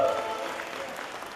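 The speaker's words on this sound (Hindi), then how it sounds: "जरा एक बार तालियां भी आ रही।" Audience applause at a diamond jubilee anniversary celebration, a steady wash of clapping from a crowd, fairly loud and even over the short stretch, with no voices standing out.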